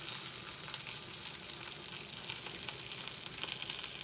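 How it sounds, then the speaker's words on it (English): Crumbled sausage frying in a pan gives a steady, crackling sizzle with scattered pops and a faint stirring scrape, continuous and close with no talking. "then we're gonna put a lot of sausage in the pan"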